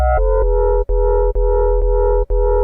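A deep, buzzy FM synth bass made in the Surge synthesizer plays a repeating pattern of sustained notes with short gaps between them, loud and upfront with no voices.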